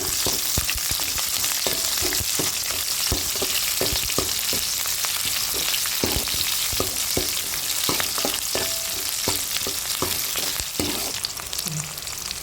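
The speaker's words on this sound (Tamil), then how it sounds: "வெங்காயம், மிளகாய், கருவேப்பிலை எல்லாம் போட்டுக்கலாம்." Sliced onion, chilli and curry leaves fry in oil after mustard seeds have popped, for a Kongunadu-style sambar tempering: a continuous crackling sizzle punctuated by sharp clicks of a stirring spoon against the pan.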